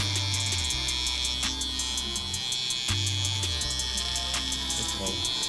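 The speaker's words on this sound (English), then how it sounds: "we're gonna use this Rebel Trimmer. We're gonna shave my client's head, line up the beard" A Stylecraft Rebel electric trimmer buzzes steadily and close while shaving a client's head in a barbershop, its motor hum rising and dipping slightly as strokes pass over the scalp.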